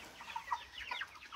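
Chickens cluck in short, scattered bursts, several birds close by with irregular rhythm and no talking.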